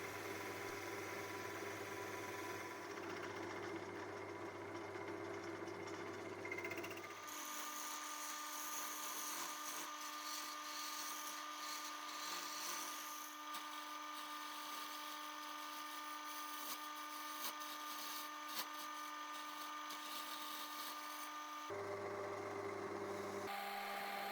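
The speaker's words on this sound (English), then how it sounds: "drilling the centre of the cup out with the Forstner bit" Steady, loud high-pitched whine of a Forstner bit boring out the centre of a wooden cup on a spinning lathe, running continuously with a change in tone partway through.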